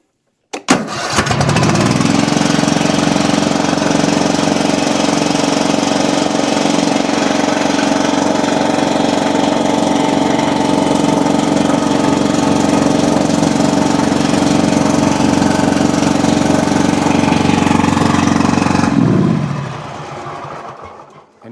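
A Kohler V-twin engine on a Toro Titan mower, with one spark plug disconnected so a cylinder is not firing, starts and runs rough for about eighteen seconds at a steady loud drone, then cuts off.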